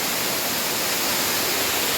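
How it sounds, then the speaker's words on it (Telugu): A constant broad rush of water falling from above at a hillside waterfall, even and unbroken, close and fairly loud. "ఇక్కడ కూడా వాటర్ పడుతుంది"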